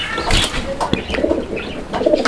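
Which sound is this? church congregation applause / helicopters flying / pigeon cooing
pigeon cooing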